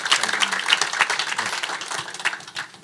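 Audience applause at a property-technology vision conference talk show, a dense, steady patter of many hands clapping at close-to-moderate distance for about three seconds, with faint voices mixed in.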